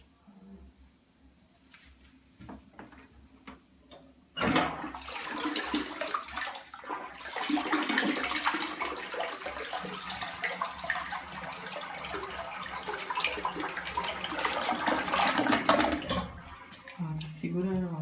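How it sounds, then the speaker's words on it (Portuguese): Toilet flushed again after a first flush, a sudden loud rush of water that surges and gurgles steadily for many seconds, with people talking beneath it. "Dá descarga de novo."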